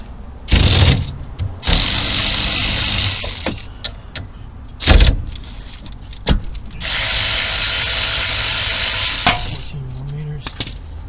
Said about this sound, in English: First thing I'm going to do is loosen up these caliper bolts.